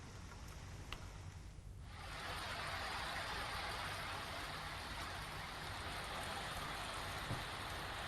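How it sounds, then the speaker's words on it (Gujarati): Steady rain falls over Valsad, starting quieter and swelling after the first two seconds into a dense, even hiss that holds loud and continuous to the end, with no voices. "વાપી અને આસપાસના વિસ્તારમાં નોંધપાત્ર વરસાદ વરસ્યો"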